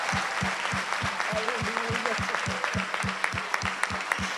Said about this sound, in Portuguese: Vamos dar uma salva de palmas ao nosso Senhor por tudo o que Ele fez até aqui.